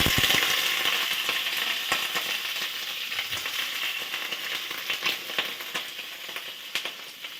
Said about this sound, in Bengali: তেল প্রচণ্ড ছিটছে, ভয় লাগছে